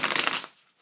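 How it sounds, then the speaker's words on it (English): Tarot cards are riffled in one short, dense burst of crisp papery flutter that quickly fades out into near silence. "I'm just going to shuffle the cards here"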